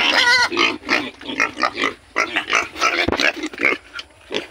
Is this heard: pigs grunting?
yes